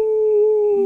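A human voice imitates a dog howling in one loud, close, steady sustained tone lasting under a second, with no other sound around it.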